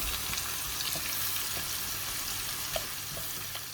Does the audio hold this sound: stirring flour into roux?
yes